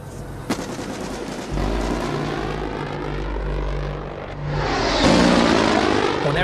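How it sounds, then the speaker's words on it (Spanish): Little Bird helicopters arrive over the 1993 Somalia battle: a steady engine and rotor drone swells louder toward the end. Sharp bangs, like gunfire, crack near the start and again around the halfway point. "En un intento desesperado para frenar a los somalíes llegaron helicópteros Little Bird."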